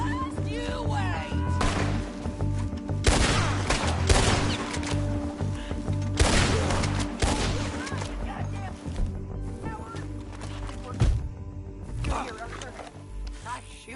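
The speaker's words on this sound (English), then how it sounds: "Nice shooting." Video game gunfire, with bursts and rumbling blasts spread across a busy mix of music and effects, with voices talking over much of it.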